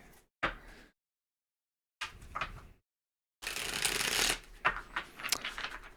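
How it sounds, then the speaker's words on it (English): Three quick bursts of a deck of tarot cards being riffled and shuffled, close up, separated by short silences; the last burst is longest. "The way I shuffle too, is like I would just shuffle a deck of cards"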